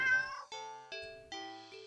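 A cat meows several times in quick succession, clear harmonic cries close by and fairly quiet, each call tapering off before the next.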